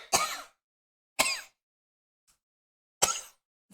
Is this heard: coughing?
yes